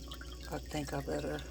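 Liquid pours and splashes in short bursts while jun kombucha tea is being made, close and fairly soft, with a light trickle between splashes.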